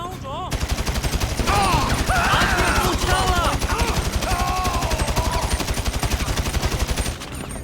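AK-47 automatic fire in a GTA video game rattles out in long rapid bursts, loud and sustained, with someone talking over the shooting.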